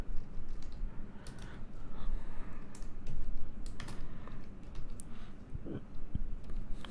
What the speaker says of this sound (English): My keyboard.